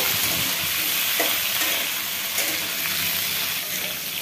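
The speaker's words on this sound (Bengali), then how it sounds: "বেগুন আর আলু একসাথেই ভেজে নিচ্ছি দুটা।" Eggplant and potato fry together in oil, giving a dense, even sizzle at moderate level with no talking.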